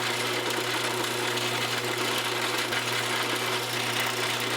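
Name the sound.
drilling titanium knife for detent ball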